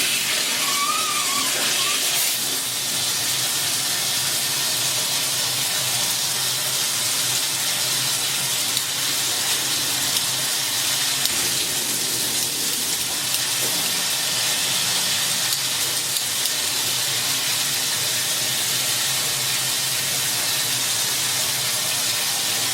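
Water runs from a newly installed Vida Alegria 5 Plus shower fixture during a leak check, a continuous steady hiss of spray that stays even and fairly loud throughout, with no talk.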